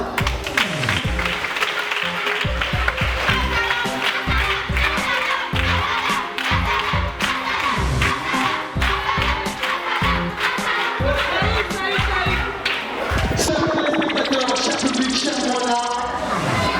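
Students in a Gabonese school quiz competition applaud a classmate, a steady dense wash of clapping that runs for a long stretch, with crowd chatter mixed in and a shift in tone near the end.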